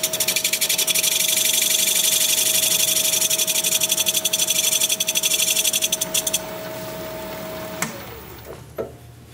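Wood lathe spinning at about 700 RPM as a tool bevels the edge of a turned wooden piece, a steady loud whirring hum with scraping that stops near the end, leaving faint knocks.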